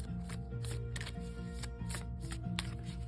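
Mystic Wolf Oracle cards are shuffled by hand in soft, repeated riffling bursts at a steady rhythm, quiet and close, with no talking over them.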